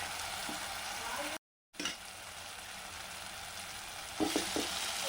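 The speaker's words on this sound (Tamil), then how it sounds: "சரி, இன்னும் கொஞ்சம் வதக்கிறேன்." Brinjal, radish, carrot, raw mango and potato sizzle and fry in a pan for Chennai-style kara kuzhambu, a steady close crackle with a brief dropout and a few stirring clatters near the end.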